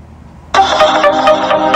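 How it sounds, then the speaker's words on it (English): A Droid phone ringtone plays from an iPhone, starting abruptly after a half-second of quiet and continuing loud and bright with rhythmic electronic tones, no talking over it. "Even though I don't have a Droid, I love this ringtone."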